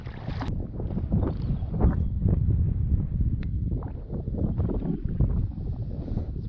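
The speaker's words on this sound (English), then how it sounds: "There's so much wind around." Strong wind buffets the microphone at a freshwater barramundi fishing spot, a steady, loud rumbling roar with gusty swells and no talking.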